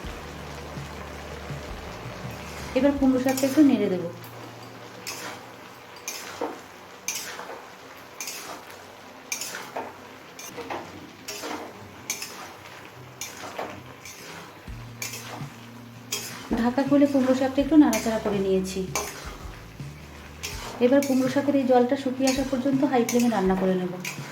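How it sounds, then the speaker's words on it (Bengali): Pumpkin greens with prawns cooking over high flame in a pan, with repeated metal spoon scrapes and clatters in bursts separated by quieter stretches of soft sizzling, up close. "আরও মিনিট তিন থেকে কুমড়ো শাকটা হাই ফ্লেমে রান্না করে নিয়েছি"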